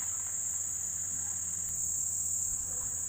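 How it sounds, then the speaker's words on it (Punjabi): A leaf-eating fly or beetle in trees in Punjab gives a steady, loud, high-pitched shrill drone that holds unbroken throughout, with no voices. "ਇਸ ਤਰ੍ਹਾਂ ਦੀ ਆਵਾਜ਼ ਆਈ ਜਾਂਦੀ ਹੈ ਦਰਖਤਾਂ ਤੋਂ ਮੱਖੀ ਹੈ"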